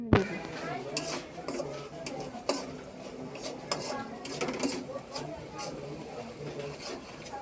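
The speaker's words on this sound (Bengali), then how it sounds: "এখন আমরা নেড়ে দেব।" A spatula scraping and tapping in a pan while stirring a spiced scrambled-egg dish gives irregular clinks and scrapes close by over a low background, with someone talking throughout.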